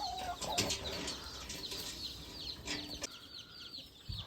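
Backyard hens kept as farm livestock cluck in short, irregular bursts at close range, with a brief rustle of wings and scattered bird calls; no talking.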